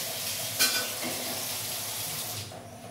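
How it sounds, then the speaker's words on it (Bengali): Burnt black residue being scraped off the inside of a wok (karahi), a continuous rasping hiss with one sharp scrape early on, fading out toward the end. "কড়াইয়ের গায়ে কালো কালো লেগে আছে। তো এইগুলোই চেঁচে পরিষ্কার করে দিচ্ছি"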